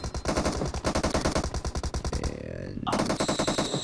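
Submachine gun fire in PUBG Mobile rattles out in rapid, loud bursts with a short pause before firing resumes, and faint voices sit underneath.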